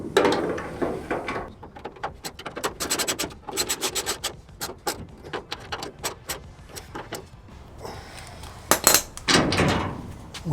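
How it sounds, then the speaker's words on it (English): Metallic ratcheting and clicking as bolts are tightened on the tailgate handle of a 1998 Chevy C/K 1500 pickup, a rapid run of close, sharp clicks with brief pauses and some rubbing and clanking near the end. "Now tighten up the bolts."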